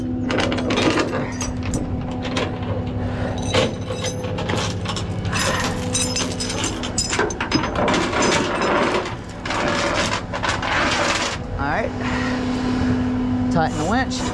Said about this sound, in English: Tighten the winch, hook's tight, not tight enough, a little bit more